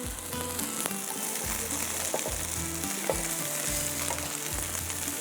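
Okra frying lightly in a pan gives a steady, soft sizzle close by, with faint stirring clinks now and then and no voices.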